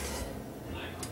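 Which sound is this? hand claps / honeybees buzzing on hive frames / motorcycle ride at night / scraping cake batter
scraping cake batter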